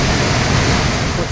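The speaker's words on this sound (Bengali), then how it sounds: "একটা সাইডে জল এই দিকে এসে পড়ছে, এই যে পুরো জলটা এসে পড়ছে এই সাইডে" At Jagdalpur a large waterfall pours down in a dense, continuous roar of rushing water, loud and broadband, with some wind buffeting across the whole short stretch.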